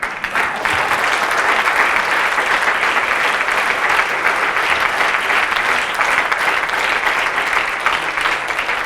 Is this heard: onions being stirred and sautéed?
no